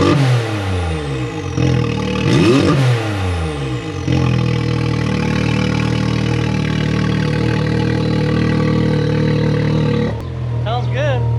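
A warmed-up Can-Am X3 side-by-side with a Stage 5 tune idles roughly and loud nearby, with a couple of quick revs early and a brief dip near the end, the engine drone continuous throughout.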